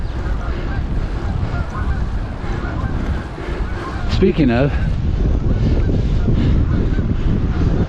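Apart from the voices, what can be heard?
Canada geese honking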